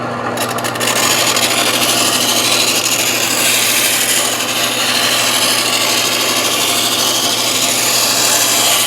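A steel cabinet scraper glides lightly over a 220 grit abrasive wheel turning at a slow 900 RPM, giving a loud, continuous close grinding hiss over a steady motor hum.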